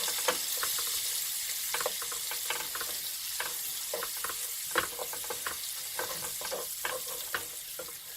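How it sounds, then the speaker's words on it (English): Butter melting and sizzling in a pan with chicken supreme ingredients, stirred and scraped with a utensil; a steady close frying hiss runs throughout with repeated clicks and knocks of the stirring. "I'm just going to mix all that around and melt my butter"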